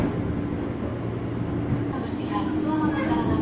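KRL commuter train pulling out of Pasar Senen station late at night, a steady low rumble of wheels and motors inside the carriage with faint squeals, continuous and close.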